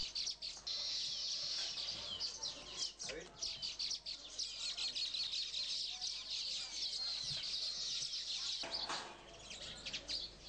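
Weaver birds give dense, high chattering chirps and calls, continuous and fairly faint, with a soft rustle partway through.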